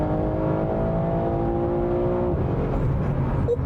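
A tuned BMW G80 M3 sports car engine with an 8HP76 gearbox drones steadily close by, its tone holding and then shifting as it accelerates, with no voices.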